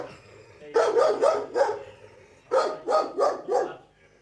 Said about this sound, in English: immediately the dog goes on the attack